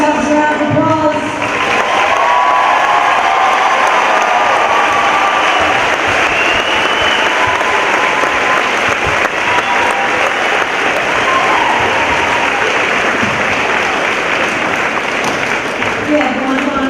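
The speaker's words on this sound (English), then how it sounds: "Give yourselves a round of applause." An audience at an 8th grade graduation ceremony claps steadily and loudly for over fifteen seconds, with scattered cheers and voices mixed into the sustained applause.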